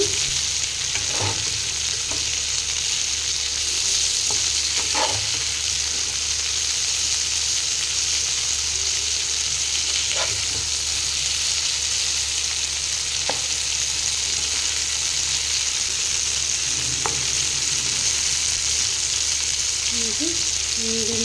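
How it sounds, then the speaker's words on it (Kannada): Fish fries in a pan with a constant loud sizzle, broken by occasional sharp scrapes and clacks as it is stirred and turned. "ಈ ಥರ ಫ್ರೈ ಮಾಡ್ಕೋಬೇಕು"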